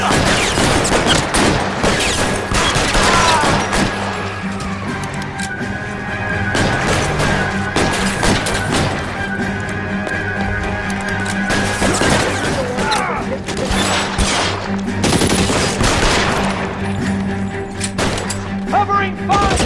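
Gunfire rattles through a chaotic L.A. Noire shootout, with dense, rapid bursts of shots and heavy impacts layered over one another, loud and close, while voices shout in between.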